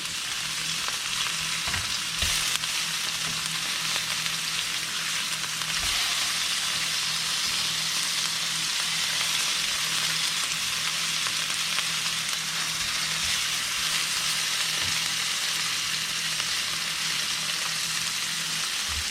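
Yellowfin tuna fries in a pan, a steady, close and even sizzling hiss that runs throughout with faint clinks and shuffles as the fish is turned.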